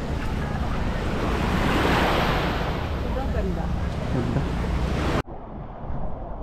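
Surf rolls in at Papaya Beach in El Nido, Palawan, a loud, close rush of breaking waves mixed with heavy wind buffeting, ending with a sudden cut to quieter surf.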